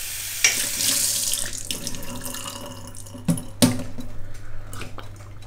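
A kitchen tap in a Madrid flat runs water steadily into the sink, a continuous close splashing hiss with a couple of brief knocks partway through.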